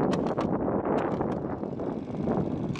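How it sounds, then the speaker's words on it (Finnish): Gusty wind in stormy weather buffets the microphone outdoors, a continuous low rumble with a few sharper rushes and no talking. "Täällä vähän tuulee, tämmönen myrskykeli vähän."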